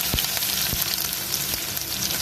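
Garlic-ginger paste sautéing in hot oil with mustard seeds for a Kerala crab mappas, a steady loud sizzle broken by a few sharp stirring clinks, with no voices.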